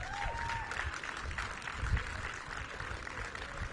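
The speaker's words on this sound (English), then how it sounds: "Please give him a round of applause as well." Audience at an outdoor grand opening event giving a round of applause, faint distant clapping from a crowd with low rumbling background noise.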